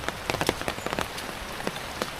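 Steady rain falls during a typhoon, a dense hiss of drops striking a surface with scattered louder taps close by, no voices present.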